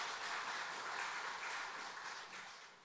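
A church congregation applauds during a Sunday morning service, a dense even wash of many hands clapping at moderate distance, sustained for a few seconds before gradually fading.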